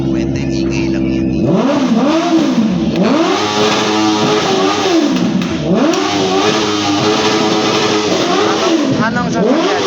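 A powerful big motorcycle engine revs up and down in repeated surges, loud and close, with the pitch rising and falling through several throttle blips.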